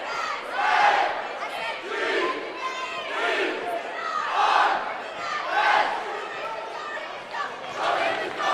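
Rangers bleacher captains leading a rhythmic crowd chant at a boys varsity basketball game against Cambridge-Isanti, loud repeated shouted phrases from many voices in a gym, rising and falling in a steady cadence.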